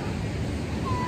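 Waves rolling in at Lhoknga beach make a steady, broad wash of surf, with wind buffeting the microphone throughout the short stretch.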